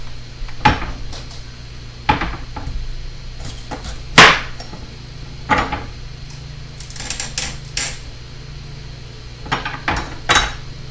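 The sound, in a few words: knife cutting bell peppers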